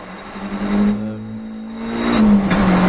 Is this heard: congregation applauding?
no